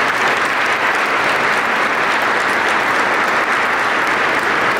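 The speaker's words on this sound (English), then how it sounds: "let's first of all give Mike a round of applause for stepping up" Round of applause at an annual metro luncheon, a loud, dense, steady roar of many hands clapping across the whole stretch.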